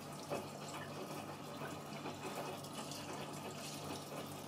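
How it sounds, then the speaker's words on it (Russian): Hot boiled water pours steadily into a pot of rice for oven-baked plov, a continuous, soft splashing rush, faint and even throughout, with no voices. "Добавляем горячую кипяченую воду."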